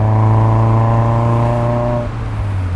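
Loud, close engine and exhaust note from a Mazda MX-5 NC fitted with a BBR Super 20 exhaust, a sustained harmonic drone that holds steady and then drops as the revs fall off.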